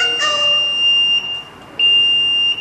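Steady electronic alarm tone from an MA300 access control unit, a sustained high-pitched beep with a brief drop in the middle before it resumes, loud and alone.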